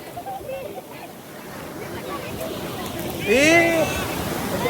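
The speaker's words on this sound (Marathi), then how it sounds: "डेंजर लाट आहे बाबा" Surf washing onto a Goa beach makes a steady, moderately loud roar throughout, with a brief tonal voice or whistle rising and falling near the end.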